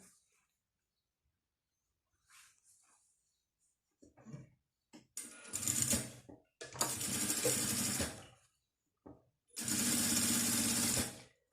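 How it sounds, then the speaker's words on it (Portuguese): A sewing machine stitches down the sides of a pouch and its lining in one seam, running in several close, loud bursts of rapid mechanical chatter after some quiet handling sounds. "Vou começar a costurinha aqui de baixo e eu vou passar por toda a lateral"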